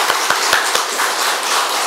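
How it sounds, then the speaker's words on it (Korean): A church congregation clapping during a Sunday morning worship service, a loud, dense wash of many hands with a few sharper claps standing out near the start, steady throughout and no talking. "여전도회한테 박수 한번 쳐드려야 되겠죠?"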